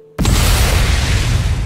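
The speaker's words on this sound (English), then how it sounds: "Did that explosion come with the sound effect?" A sudden loud explosion sound effect bursts in after a moment of quiet, a heavy booming roar that stays full and rumbling for over a second without fading much.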